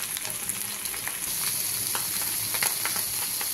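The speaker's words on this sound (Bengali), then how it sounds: "এবার ডান্ডিগুলো যে বসিয়ে দিলাম ভাজা, তেলটা গরম হয়ে গেছে।" Ghetkol leaf stalks frying in hot oil, a steady close sizzle with crackling pops throughout, no talking.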